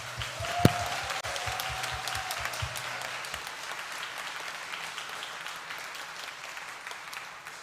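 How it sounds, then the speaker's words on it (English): Applause for a kitchen staff at a summer arts camp gathering, a crowd clapping steadily for several seconds, fairly close and continuous, slowly easing off toward the end. "would you please give a round of applause to our whole kitchen staff?"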